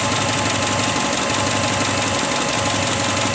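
A Subaru engine runs steadily after the EGR ports were cleaned, giving a loud, continuous mechanical hum with a rapid, even pulsing throughout and no talk.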